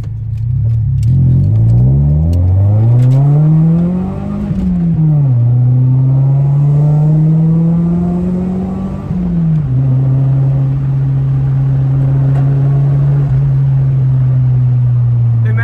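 Loud car revving hard up from first gear, the engine note sweeping upward, dropping at each shift and climbing again, a close, continuous roar with no one talking.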